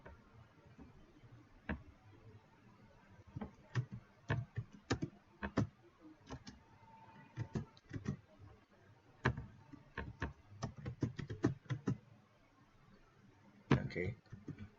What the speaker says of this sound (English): So let's just type that here.